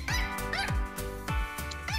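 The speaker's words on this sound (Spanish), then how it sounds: "¿Por qué le bajas el volumen a mi perrito?" A small dog barks loudly and repeatedly during a Tekken game stream, sharp yips recurring at an uneven rhythm, close and alone without talk.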